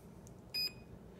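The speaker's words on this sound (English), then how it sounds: "Now it starts over with one beep." One short electronic beep from a Proboat Zelos 36 boat's speed controller during programming, a single clear tone close up against faint background hiss.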